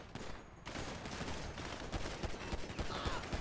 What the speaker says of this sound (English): I just shot my gun